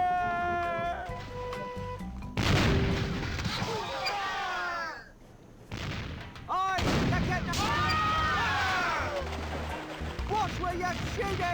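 Ship cannons booming in the pirate adventure game The Curse of Monkey Island, several heavy blasts with rumbling tails, mixed with cartoonish wailing voices and a short quiet gap midway.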